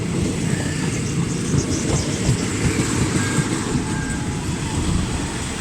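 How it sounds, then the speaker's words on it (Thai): Thai special express train Utarawithi No. 9 rumbles past steadily at close range near Samsen, a dense continuous roar of wheels and carriages with faint clickety-clack and no talk. "เดี๋ยวจะสวนกับขบวน รถด่วนพิเศษ อุตรวิถีขบวนที่ 9 ต่อนะครับ"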